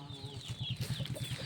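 A rooster kept on a home farm clucks close by in a quick, steady run of low, evenly spaced clucks with no other sound.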